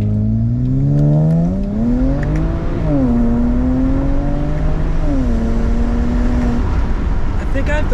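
A BMW 335i with the N54 engine accelerates hard from a standstill, its engine note climbing steadily through repeated upshifts, loud and close from inside the car, with no talking.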